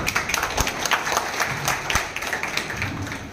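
An audience applauds during a speech at a Savitha Maharshi Jayanthi program in Mulbagal, with a dense, fairly loud run of clapping lasting the whole stretch.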